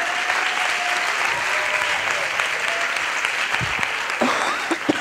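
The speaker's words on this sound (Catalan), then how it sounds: "Molt bé, un aplaudiment." An audience at a social theatre workshop claps in sustained, dense applause, close and lively with a few sharper individual claps near the end.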